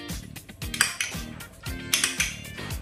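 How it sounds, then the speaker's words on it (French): Ginger and lemongrass being mixed into olive oil in a dish, heard as a series of brisk clinks and scrapes of a utensil against the bowl, close and fairly quiet, with no talking. "je vais mélanger mon huile d'olive avec la citronnelle, le gingembre"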